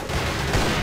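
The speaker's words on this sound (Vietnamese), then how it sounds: "đấy em bắn trúng tường rồi" An F2X sniper rifle shot strikes a wall in a video game, a brief, dense blast of noise filling the whole short moment at close range.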